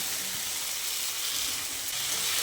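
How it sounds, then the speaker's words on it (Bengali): Fried pumpkin pieces go into a pan of hot spice masala that is already releasing oil, giving a steady, close, loud sizzle and hiss throughout with no talking. "এবার ঠিক এই পর্যায়ে এর মধ্যে দিয়ে দিচ্ছি ভেজে রাখা কুমড়োগুলো"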